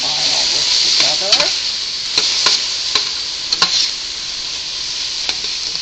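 Vegetables for minestrone soup with Italian seasoning sizzle steadily in a hot pan, broken by scraping stirs of a utensil against the bottom, close and loud with no talking.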